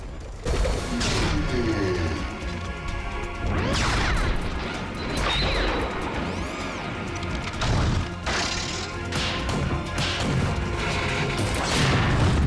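In the SpongeBob SquarePants: Battle for Bikini Bottom video game, a boss makes a horizontal smashing swing that lands as a series of heavy crashes and booms. Metallic clanks sound over dense game music and effects, and the noise stays loud throughout.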